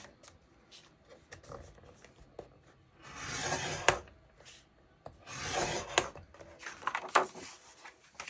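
Cardstock is scored for a book-in-a-box project with a few soft, scratchy rubbing strokes heard close up, separated by quiet pauses.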